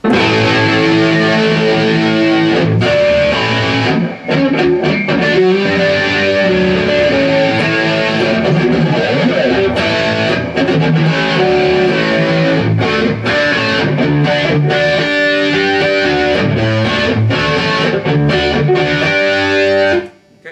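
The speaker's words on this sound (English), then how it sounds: "let's go to the middle position distortion" Distorted electric guitar on the middle pickup position plays a continuous riff, loud and close, with thick sustained chords and a couple of brief dropouts near the start and end.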